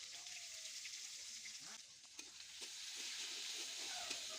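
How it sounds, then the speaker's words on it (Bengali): Onions frying in hot oil with green chili and garlic in a pan, a steady faint sizzle and hiss with a few light stirring scrapes, heard close and without speech. "তারপর পেঁয়াজগুলোকে গরম তেলে দিয়ে দিব। পেঁয়াজটা হালকা একটু লাল লাল হতেই আমি এখানে কাঁচামরিচ আর রসুন অ্যাড করে দিব।"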